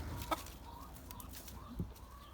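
Sultan breed rooster giving a couple of brief, soft clucks amid quiet farmyard background noise, no talk.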